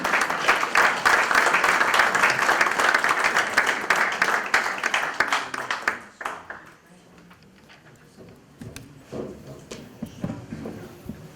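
Loud audience applause at a town address event fills the first half, many hands clapping steadily, then fades abruptly into a quiet room with scattered murmurs and small noises.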